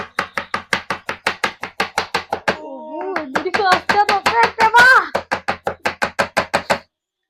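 A knife chops a potato on a cutting board in a rapid, even run of sharp, close knocks, then pauses while a person talks and sings, and resumes the brisk chopping rhythm until it stops.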